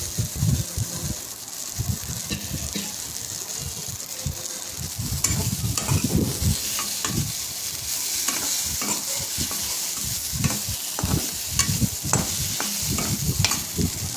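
Potatoes and peas with butter sizzle in a pan for pav bhaji while a spatula stirs and scrapes in repeated strokes over a continuous close frying hiss.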